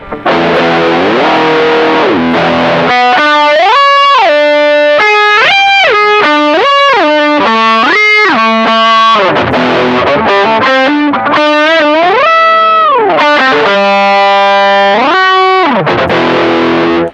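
Distorted electric guitar run through a Mooer Pitch Step harmonizer set to high harmony, each note doubled by a higher pitched voice; a steady sequence of stepped phrases, loud and continuous.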